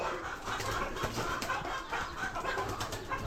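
Fayoumi chickens kept alongside pigeons on a small farm cluck in a busy, overlapping murmur, steady and fairly close with a constant low background noise.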